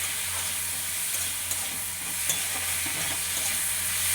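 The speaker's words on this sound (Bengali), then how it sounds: "হাফ চামচ মতো লঙ্কা গুঁড়ো দিয়ে আলুটাকে কষাবো।" Potatoes sautéing in a pan with chilli powder for a cabbage dish with bhetki fish bones: a steady close sizzle and frying hiss runs throughout with faint stirring scrapes, and no voices.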